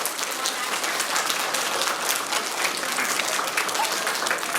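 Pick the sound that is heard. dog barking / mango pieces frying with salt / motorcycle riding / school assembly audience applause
school assembly audience applause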